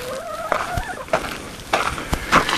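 Backyard flock of chickens giving short, close clucks and calls in quick succession, several overlapping bursts with no talking.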